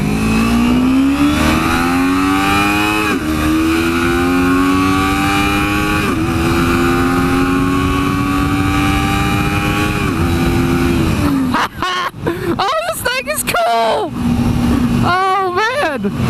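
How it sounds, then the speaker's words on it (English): A 2011 Kawasaki Ninja 250R motorcycle accelerating while being ridden, its engine whining loudly and climbing through several gear shifts, with a sputtering, uneven stretch near the end under wind noise. "Little 250, so fast! I'm doing like 60, I need to slow down."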